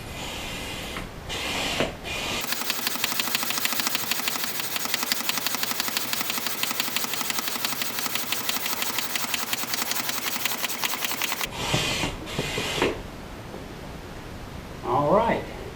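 An Advanced Elements AE1007 inflatable kayak is pumped with air in a long run of rapid, even hissing strokes, close and fairly loud, with brief rustling before and after.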